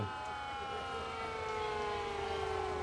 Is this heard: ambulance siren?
yes